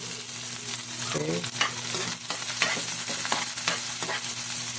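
Onions and garlic sautéing in a pan, a steady close sizzle with stirring scrapes, while someone speaks briefly over it.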